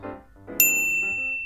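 A single bell-like ding with a lingering high ringing tone after a brief lull in low background murmur, a bell ringing to start class at school.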